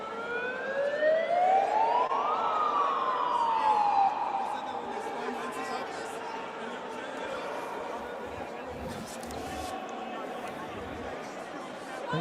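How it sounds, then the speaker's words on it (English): A basic megaphone siren wails up and then winds down in pitch, loud and fairly close, then fades under traffic noise while people talk. "That sounded like just a basic megaphone siren"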